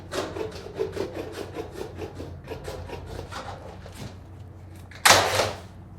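Tin snips cut through the double hem of a metal roofing shingle in a series of rhythmic close crunching bites, ending with a louder, harsher scraping rasp.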